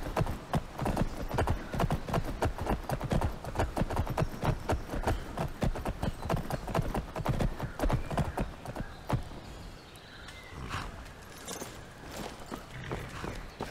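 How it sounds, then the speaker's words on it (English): A horse in the video game Skyrim near Falkreath: rapid, steady hooves clip-clopping up close for most of the stretch, then easing off into quieter steps toward the end. "There's a horse there."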